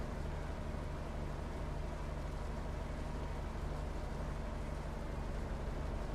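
A tractor pulling a rear butterfly mower in a farming video game drives along with a steady, unbroken low engine drone and hum, alone without talk.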